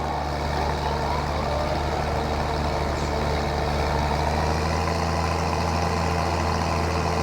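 Tractor engine in the farming video game Farming Simulator 19, a steady low droning hum that holds at an even level with no talk over it.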